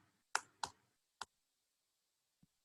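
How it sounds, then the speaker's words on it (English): A computer mouse clicks sharply and close in a quiet room, with two quick clicks forming a double-click, then a single click, and a faint last tap. "if you just double click on them, you'll get a cursor and you can start typing"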